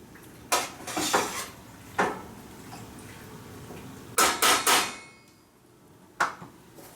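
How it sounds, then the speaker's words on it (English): A spoon stirs a pound of Velveeta cheese melting in a pot over very low heat, with sharp metallic clanks against the pot's side coming in irregular bursts, some rapid and clustered, between quieter pauses. "you have to continuously stir on a really low heat"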